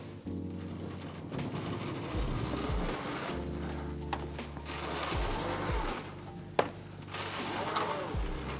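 A fold-out line is pulled to deploy the floats of a Dragonfly 25 trimaran, giving continuous rubbing, ratcheting and creaking mechanism sounds close by, with a sharp knock partway through.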